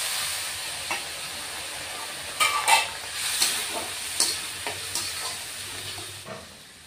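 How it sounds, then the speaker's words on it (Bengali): Potatoes sauté in oil in a pan for a fish curry, making a steady soft sizzle with several sharper clinks and scrapes from a spatula as they are stirred, fairly close and without any talk. "আলুগুলি ভেজে নেব, মানে কষিয়ে নিব আর কি।"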